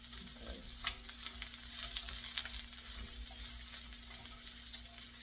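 Onions sizzling in a very small wok, a fairly quiet steady sizzle with light stirring clicks and taps near the start, under a low constant hum, no speech.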